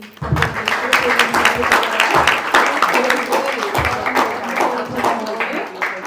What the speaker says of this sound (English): let's just give a round of applause to Timon, Salas, and Abby.